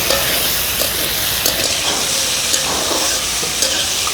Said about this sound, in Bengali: সামান্য হলুদের গুঁড়া, সামান্য মরিচের গুঁড়া দিয়ে ভেজে নিচ্ছি।